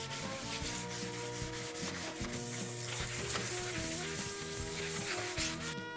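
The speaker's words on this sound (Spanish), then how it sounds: "Pero ahora es necesario que frotemos, que lijemos" Steady rhythmic hand sanding, a rough scraping rub repeated back and forth over a surface, with a tonal musical hum underneath.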